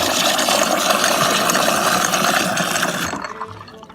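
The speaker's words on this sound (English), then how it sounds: "I'm just trying to get some water here." Water pours steadily into a glass or container at close range, a continuous splashing fill that cuts off near the end.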